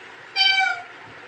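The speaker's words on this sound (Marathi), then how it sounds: "अयो मांजरीचा आवाज आला तुला?" A single short, bright cat meow heard from nearby at home, clear against a quiet background.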